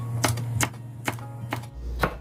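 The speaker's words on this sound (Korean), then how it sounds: "홍고추도 너무 굵지는 않아도 됩니다만 조금 도톰하게 썰겠습니다." A knife cuts thick slices of red chili pepper on a cutting board, five crisp, evenly spaced chops over a low steady hum, close and clear with no talk.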